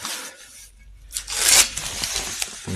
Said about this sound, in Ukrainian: Наклеючки позаклеїли скотчем, щоб не зафарбувати.